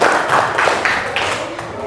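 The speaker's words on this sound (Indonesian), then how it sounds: "Beri tepuk tangan untuk kelas 4." A classroom of pupils applauds a group presentation in a coding lesson, a dense, steady patter of many small hands close by that runs on for about two seconds and then thins slightly toward the end.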